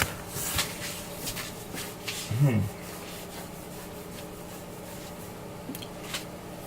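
Trimming and sanding a Gundam Age-FX plastic model kit part, heard as soft repeated rubbing and scraping strokes close by, fairly quiet, with a brief faint tonal blip midway and no speech.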